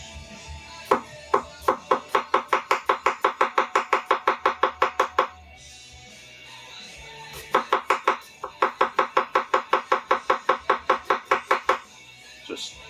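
A freshly sharpened Pacific Saw Works chef knife chops food steadily on a cutting board in two long runs of quick, even taps, with a brief pause between them.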